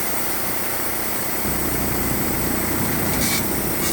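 A truck in its lowest gear strains against its applied tractor brake during an air-brake tug test, giving a loud, steady engine drone that swells slightly partway through, with no voices.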